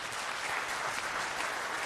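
An audience at an Aam Aadmi Party councillors' meeting in Delhi claps steadily, a dense continuous wash of applause from a crowd in a hall.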